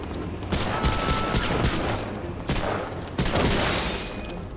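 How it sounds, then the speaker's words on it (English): Sustained enemy machine gun fire in a war video game, dense bursts of shots rattling almost continuously at close range with a brief lull midway before another loud volley. "that guy is so accurate with that machine gun."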